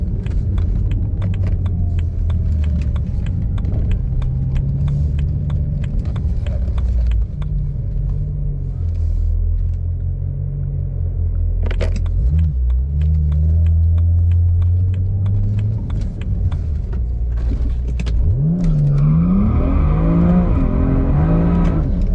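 A BMW E92 335i with the N54 engine launches hard with wheel spin, its loud close engine rumbling and droning through the run before revs climb and sweep sharply near the end.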